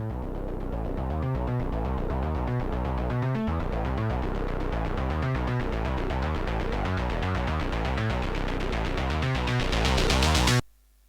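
A pulsing Serum synth tone runs steadily, its brightness gradually opening up as a high-cut filter opens and higher tones creep in, ending abruptly.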